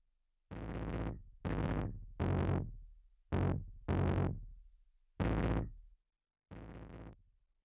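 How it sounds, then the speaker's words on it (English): Seven heavily distorted bass notes from a duplicated bass track in a mix, loud and buzzy, each held about half a second with short gaps, played alone without other instruments. "So that duplicated, distorted bass track is giving it just that extra distortion"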